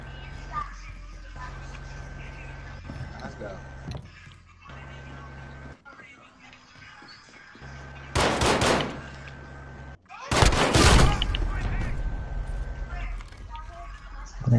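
Gunfire in a shooter video game, with two loud bursts of shots in the second half of the clip, set against quieter game sounds and excited voices talking over them.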